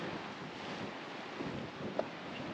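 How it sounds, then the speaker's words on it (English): Strong wind buffets the microphone on coastal cliff tops at Howth, Dublin, a constant loud rushing roar with no breaks, mixed with faint sea noise and a brief click near the end. "you probably can't even hear me right now because the wind is so bad up here"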